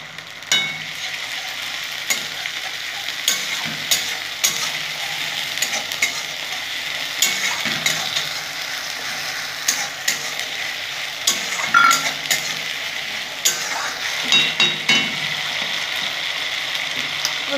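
Ginger dropped into hot oil fries with a continuous sizzle, broken by repeated scraping clicks of a spatula stirring against the pan, near and busy throughout.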